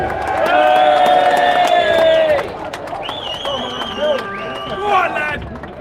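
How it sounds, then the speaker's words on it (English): A crowd at a Britain First rally in Birmingham cheers, whoops and whistles, with shouting voices and babble swelling loudly, then easing slightly and rising again. "Please put your hands together and give a big round of applause"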